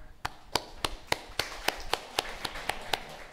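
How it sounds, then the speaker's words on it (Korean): Church congregation clapping in a steady, even rhythm, about a dozen crisp claps at a moderate pace, fairly faint and heard alone. "자, 박수 한번."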